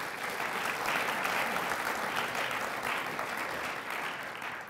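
Audience applause at a university research lecture, a steady dense wash of many hands clapping throughout, moderately loud and sustained without pause.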